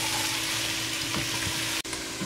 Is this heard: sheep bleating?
no